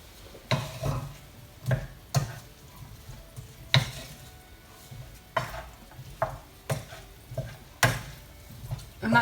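Pumpkin and bacon pasta is stirred into a pan, with spoon scrapes and pot clatter in irregular bursts over a faint sizzle, close by.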